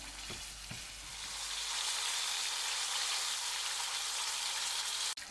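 Zeppole dough frying in hot oil, a steady broadband sizzle and crackle that swells after the first second and holds, with a couple of soft knocks early and a sharp click near the end.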